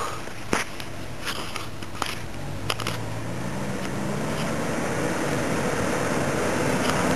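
A Toyota off-road vehicle ploughs through deep, heavy mud, its engine labouring in a steady low drone that rises gradually, with scattered knocks and clunks from the body over the top.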